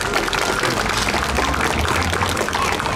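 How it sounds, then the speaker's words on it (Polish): Audience applause at a magic and street-performance show at the Karnawał Sztukmistrzów festival, a dense, steady clatter of many hands that stays loud throughout, with a low rumble beneath. "Wielkie brawa!"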